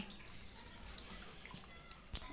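Peeled bottle gourd pieces are rubbed and rinsed in a basin of water, giving soft, close sloshing and splashing with a few faint drips and light knocks.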